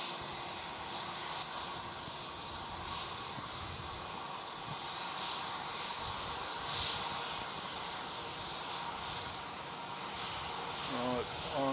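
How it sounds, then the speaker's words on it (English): A jet taking off from runway 34 at Melbourne Airport, heard as a steady, fairly distant engine roar that holds evenly throughout, with voices talking over it. "Runway 34, quick takeoff"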